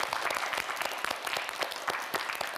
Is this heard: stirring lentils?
no